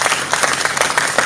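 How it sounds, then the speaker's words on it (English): Dense, steady clapping from a large crowd at a live political broadcast event, loud and close, with faint voices mixed underneath. "More of that clap."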